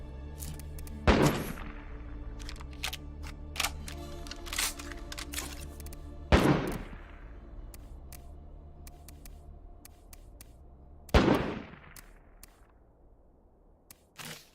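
SMG fire in the video game State of Decay 2: three loud, sharp blasts with ringing tails, spaced several seconds apart, and scattered lighter clicks and taps in between.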